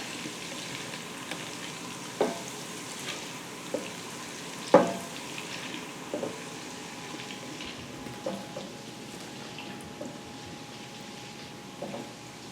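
A steady soft sizzle from a pan as ingredients melt down for a linguine and mussels white wine sauce, broken by occasional clicks and stirring knocks.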